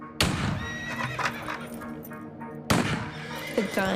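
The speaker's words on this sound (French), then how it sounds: "En entendant les coups de feu, les chevaux ont commencé à paniquer." Horses neigh and whinny in panic at a house yard where gunfire rang out, shrill loud calls repeating over scuffling hooves, with a second burst of frantic whinnying later.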